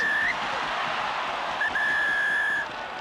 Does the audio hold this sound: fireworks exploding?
no